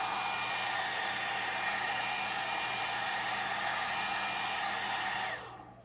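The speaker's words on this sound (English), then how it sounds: "my paint has dried again because I used my hair dryer" A hair dryer blows steadily while drying paint, a loud continuous airy whoosh with a low hum beneath, cutting off abruptly near the end.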